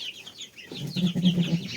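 Chickens cluck and chatter close by, with a rooster's throaty calls growing louder in the second half.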